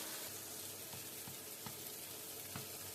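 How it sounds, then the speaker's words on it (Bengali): Flat beans fry in a pan while being stirred, giving a steady hiss of sizzling oil broken by a few soft scrapes of the stirring utensil. "ভালোভাবে নাড়াচাড়া করে ভেজে নেব।"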